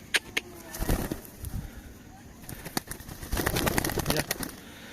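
A male pigeon coos in low throaty bursts while chasing a female in a loft full of pigeons, with scattered wing flaps and background noise.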